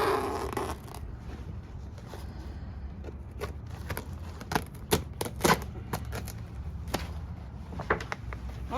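Cutting a plastic piece free from popup camper canvas: rapid, uneven snips and crackling rips, close and moderately loud, over a steady background hum.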